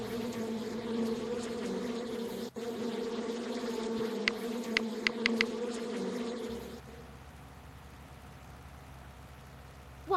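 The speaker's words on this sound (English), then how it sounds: "the bees won't let us through!" Cartoonish bee buzzing from the Masha and the Bear Pizza Maker mobile game drones steadily under game music for several seconds, with a few brief sharp effects, then drops away as the background changes.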